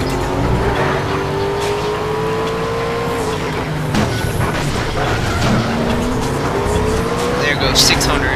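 An Aston Martin DB9 in the Need for Speed Shift racing game roars continuously, engine pitch climbing and dropping through gear changes, with rival cars and brief tire squeals around it; a commentator talks over the engine.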